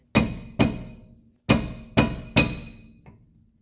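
A rubber mallet beats a Snap-on socket loose during a front brake rotor and pad job on a 2010 Honda Civic: five loud, close strikes in two groups, then a faint clink.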